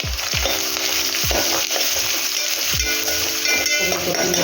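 Grated coconut frying in ghee for a ripe cucumber dish, a steady close sizzle with regular stirring strokes about once a second and no voices.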